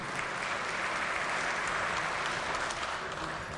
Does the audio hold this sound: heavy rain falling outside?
no